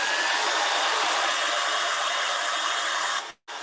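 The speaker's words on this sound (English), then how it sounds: "Now I know you guys can't hear me so well when the hair dryer is on." Hair dryer on its cool setting blowing on a Christmas vintage truck craft, a loud steady whoosh of air running alone and cutting off briefly near the end.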